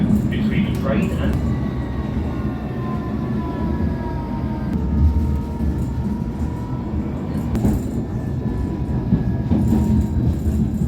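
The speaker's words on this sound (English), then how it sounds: "This is a District Line train to Richmond." A London Underground District Line train runs toward Richmond with a steady low rumble and rolling rail noise throughout, occasional clicks and squeals over the top, and a recorded announcement voice heard over the ride.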